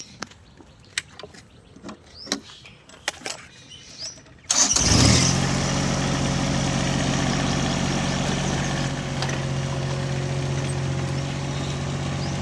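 A Jacobsen AR3 grass cutter engine cranks and catches after a few seconds of light clicks and taps, then settles into a loud, steady running drone that continues to the end.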